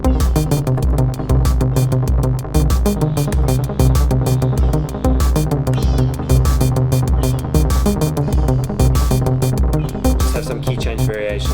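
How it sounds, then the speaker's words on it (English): Sawtooth bass from a downtempo modular synth patch with an opening filter and shifting keys, pulsing steadily under a dense, rhythmic melodic sequence that plays loud and continuous throughout. "open the filter, you can hear that sawtooth bass in the background"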